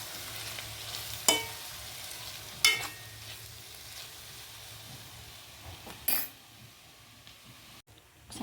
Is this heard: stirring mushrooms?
yes